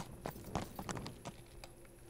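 Horse hooves in Kingdom Come: Deliverance clop in an irregular, soft patter of separate steps, faint and close over a low steady background hum.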